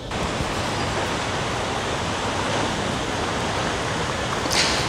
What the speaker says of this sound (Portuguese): Eu estou aqui na cachoeira, véu de noiva.